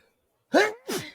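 A single sharp sneeze in two parts, a quick inhaled burst followed by a louder expulsion, close and alone in a quiet room.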